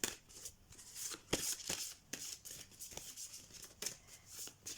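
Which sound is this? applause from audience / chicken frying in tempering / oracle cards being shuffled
oracle cards being shuffled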